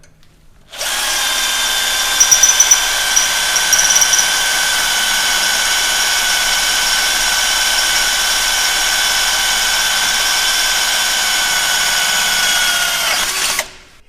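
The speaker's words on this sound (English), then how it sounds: "drill the second hole with a 1/4 inch drill bit" A power drill with a 1/4 inch bit bores a hole during a Toyota Tacoma coilover install, a loud, steady whine that starts abruptly, holds for about thirteen seconds and stops cleanly.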